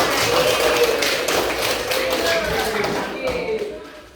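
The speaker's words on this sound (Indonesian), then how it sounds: "Oke, tepuk tangan untuk semua." Students in a mathematics classroom clap their hands together in a short burst of fairly loud, dense applause-like tapping, fading out toward the end with voices mixed in.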